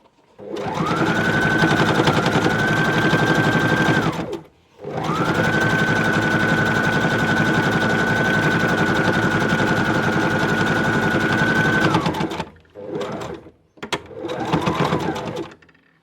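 A sewing machine top-stitches the edge of a fabric storage box in two long, steady runs of rapid mechanical whirring, followed by a few short bursts of stitching.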